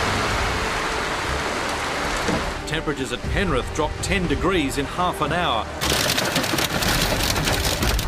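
Heavy rain pelts down hard and constant during a Sydney afternoon storm, a dense roar heard under a news presenter's voice as it continues.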